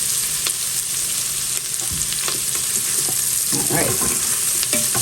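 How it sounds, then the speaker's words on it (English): Onions fry with a steady sizzle in a pot while a utensil stirs them in scraping bursts, fairly close, with a person briefly speaking over it. "So I'm gonna let my onions get a little translucent."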